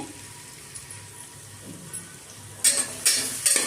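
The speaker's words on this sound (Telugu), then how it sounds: "మరుగుతుంది" Water heats toward a boil in a cooker for veg biryani, a soft steady bubbling hiss, then a few sharp metallic clinks close by near the end.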